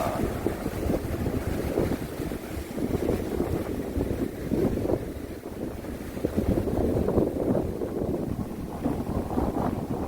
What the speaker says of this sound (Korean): 자, 엄청 파도가 부딪혔습니다